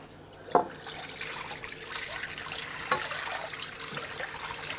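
Tap water runs steadily into a sink as a rusty wok is rinsed, with a continuous splashing rush broken by a couple of clanks of the metal pan, close and moderately loud.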